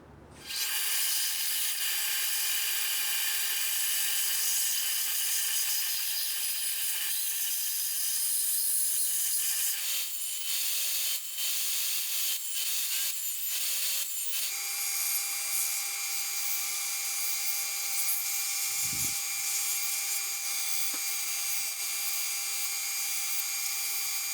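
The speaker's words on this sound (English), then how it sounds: "So quite a lot of cutting and trimming and getting everything to size and shape." Power tool cutting and trimming wooden guitar braces for a soundboard and back, a steady loud whir running almost continuously with a shift in pitch partway through, no talk.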